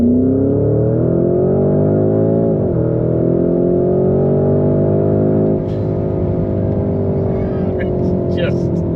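A Porsche Cayenne hybrid SUV in sport mode accelerates hard: a loud, close engine note climbs steadily in pitch, briefly drops at a gear change, then keeps pulling upward.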